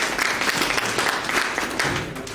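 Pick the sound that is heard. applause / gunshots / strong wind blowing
applause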